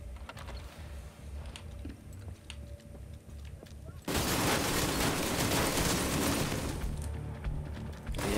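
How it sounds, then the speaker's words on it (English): An ammo stockpile detonates in The Division 2 during the Grand Washington Hotel mission: a sudden loud blast erupts midway and rolls into sustained crackling fire and rumbling after quieter game ambience. "I just found an ammo stockpile. I'm gonna detonate it."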